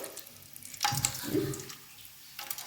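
Oil frying biryani spices in a home kitchen pan, a steady soft sizzle with a few louder bursts and stirring clatter, close by with no talking.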